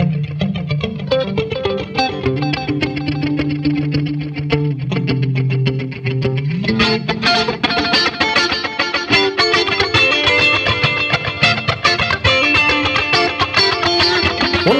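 Electric guitar played through a Boss SDE-3000D dual digital delay set for a bouncing stereo repeat, sustained notes trailing into dense echoes that build as a fuller, driven passage takes over, loud and continuous with no talking.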